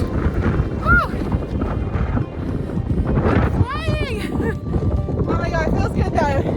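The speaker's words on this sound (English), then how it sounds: "So windy up here." Heavy wind buffets the microphone in a constant loud roar on top of Cadillac Mountain in Acadia National Park, foggy and wet, with people's voices and exclamations breaking through now and then.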